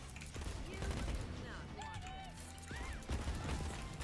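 Devastator pistol firing in Borderlands 3, a rapid fusillade of game gunshots with sharp electronic effect tones, moderately loud over a steady game soundscape.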